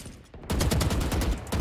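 Rapid gunfire in the Valorant video game, a loud burst of repeated shots in quick succession following a brief quieter moment, close and punchy with no talk over it.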